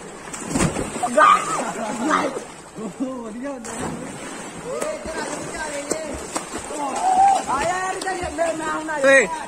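Water sloshes and splashes in a swimming pool, heard in uneven surges under nearly constant excited talking and shouting from several people close by.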